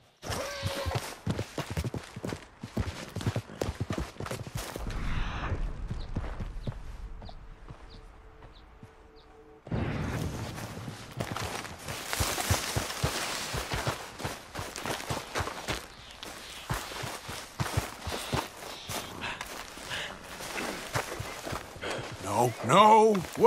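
Rhythmic hoofbeats of a horse clip-clopping along, with a brief quieter pause midway, mixed with game sound effects and a voice talking over it.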